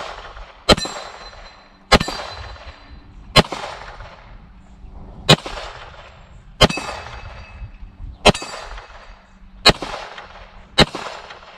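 Pistol shots ring out one at a time at a steady pace, about eight sharp loud cracks spaced one to two seconds apart, each followed by a short ringing clang of a small steel plate being hit.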